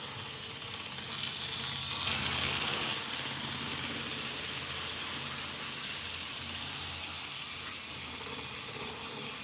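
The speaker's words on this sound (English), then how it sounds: "it's just a very, very loud, old N-scale diesel" A very loud old N-scale diesel model locomotive runs steadily at speed, its motor giving a continuous close whirring rumble with a broad hiss that swells briefly early on and then holds level throughout.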